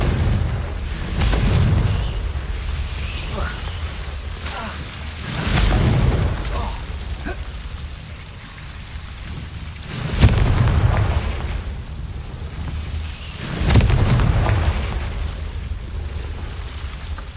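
Confringo fire spell cast in Hogwarts Legacy, heard as four loud booming blasts spaced every few seconds, each a heavy low burst with a crackling tail, over a steady game background.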